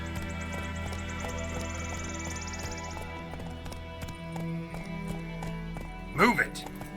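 Roach the horse gallops in The Witcher 3, a steady clip-clop of hooves running under a continuous game soundtrack, with a short vocal flourish near the end.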